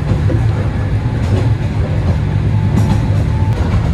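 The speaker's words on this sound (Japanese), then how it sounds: "列車は大乳駅を通過します" JNR 103 series rapid train running on the Chikuhi Line along Karatsu Bay, heard from inside as a loud steady rumble with a low motor drone and faint rail clatter throughout.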